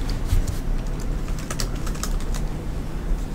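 Someone types on a computer keyboard in an irregular run of close, crisp key clicks over a low background hum.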